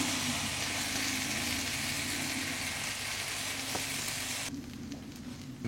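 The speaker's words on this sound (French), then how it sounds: "Nous avons nos herbes qui ont cuit dans le beurre" Herbs frying in butter and water in a pan while a beef steak dish is prepared, a steady, fairly quiet sizzle throughout that drops a little near the end before picking back up.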